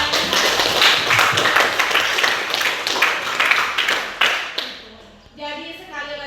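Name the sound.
applause for a student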